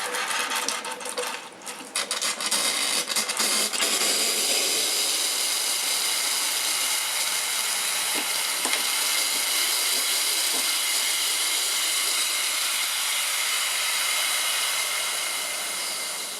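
Steam wand of a Clatronic KA-V3185 coffee machine purging, a loud continuous hiss that sputters briefly at first, then holds steady for many seconds, alone.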